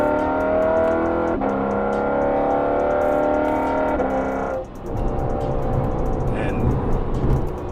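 A loud Lexus RC F tuned to about 450 wheel horsepower holds a harsh, buzzing high-rev engine note for several seconds, then lifts off into a rougher, gurgling rumble as it drives on.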